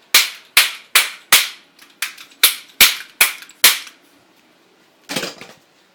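Toy cap guns fire about ten sharp, close pops in an uneven rapid series, followed by a pause and one last shot near the end.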